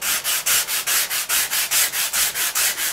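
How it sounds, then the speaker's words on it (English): A handmade foam sanding block rubs steadily back and forth over the wooden stock of a Kibler Woodsrunner rifle, making close, even scratchy strokes at a brisk pace of roughly four per second with no talking. "Sanding techniques. One of them, a little foam sanding block that I made here"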